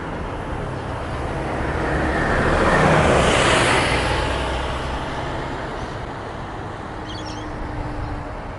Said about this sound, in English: This is an M45 bus.